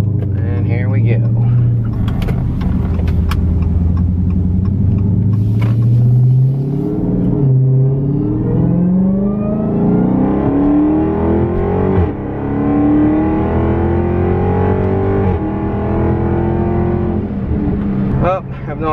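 A supercharged car engine accelerates hard at full throttle, its loud rising drone climbing steadily through the gears with a whine on top, recorded from inside the cabin over about twenty seconds.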